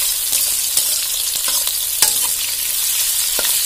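Onions frying in a pan for a home-style prawn curry sizzle steadily and up close, with a spoon scraping and stirring at intervals over the constant crackle.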